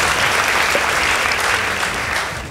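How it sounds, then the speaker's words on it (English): An audience applauds debate teams at a girls' secondary school debate, dense steady clapping filling the hall and tapering slightly at the end. "Kindly give them a round of applause."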